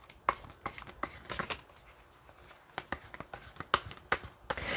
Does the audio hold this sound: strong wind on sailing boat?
no